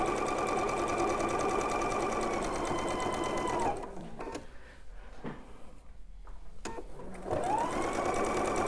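Domestic sewing machine stitching a quilt border, running in two steady bursts of rapid, even motor hum and needle clatter separated by a pause with soft handling clicks.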